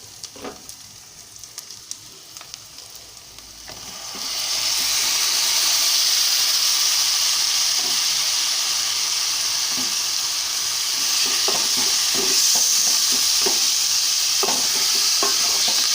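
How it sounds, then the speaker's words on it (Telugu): Mutton frying in a pan, a loud steady sizzle that swells after a few seconds, with scraping stir strokes and occasional clinks over the hiss, no voices. "ఇప్పుడు మనం బాగా కడిగి పెట్టుకున్న మటన్ వేసేసుకున్నామండి."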